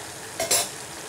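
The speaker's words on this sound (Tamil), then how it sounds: "காய் அப்பப்போ கலக்கி விடுங்க, இல்லை நாட்டி பிடிச்சிரும்." Beans and carrots cooking in a pan, a single brief scrape of a stirring utensil over a soft steady hiss, close and short.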